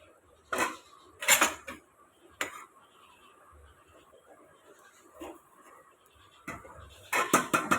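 Pumpkin pieces tumbling into a pot of thin hilsa fish and potato curry, with several sharp metallic clatters and scrapes of utensil against the pot, spaced irregularly between quieter handling noises and a brief voice.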